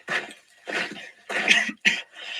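A man coughs in a close, rough series of five harsh bursts separated by short pauses, with no other sound around them.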